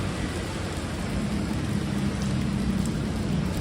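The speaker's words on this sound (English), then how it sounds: "this is mist compared to the Miami rain" Steady, heavy rain falls across New York City in strong gusting wind, a dense, even hiss that stays constant throughout with no voices.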